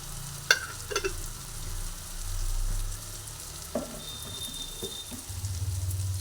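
A rui fish oil curry with potato and eggplant is stirred in a pan, a low steady frying hiss with occasional spoon taps and scrapes, fairly quiet and close.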